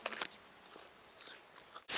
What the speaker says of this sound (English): I just pulled one of these starchy roots right out of the ground here, as you can see, and I'm just chewing it to get some water out of it.